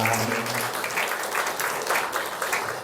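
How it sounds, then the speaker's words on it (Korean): A church congregation at a Wednesday worship service gives sustained applause, a dense, even patter of many hands clapping together with a few faint voices underneath. "우리 더 하나님께 더 큰 영광의 박수를 올려드리겠습니다."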